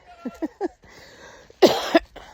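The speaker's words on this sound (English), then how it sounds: "I'm still coughing and hacking" A single harsh cough bursts out close by after a few faint, soft sounds, followed by quiet.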